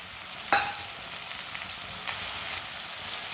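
Green chillies, garlic and tomatoes frying in a pan, a steady soft sizzle with one sharp utensil tap near the start and faint stirring scrapes, close but fairly quiet, no voices.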